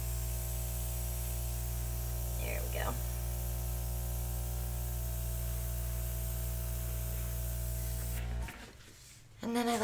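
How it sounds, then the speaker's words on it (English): An airbrush sprays paint onto an acrylic pour painting, giving a steady close hiss over a low hum for about eight seconds before it cuts off. "I'm going to go ahead and move that with the airbrush just to fill that in"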